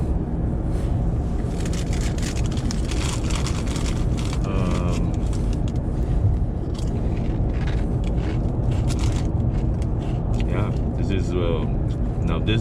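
A car running under Openpilot driver assistance gives a continuous road and engine hum while someone talks over it almost the whole time.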